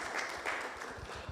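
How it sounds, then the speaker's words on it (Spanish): A church congregation gives the Lord a round of applause, a soft, distant, continuous patter of many hands clapping. "Le damos un aplauso al Señor, amén."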